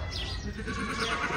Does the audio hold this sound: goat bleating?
yes